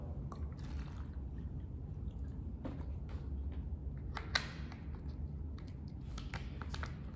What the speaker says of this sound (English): Next, you just fill the bottle with water.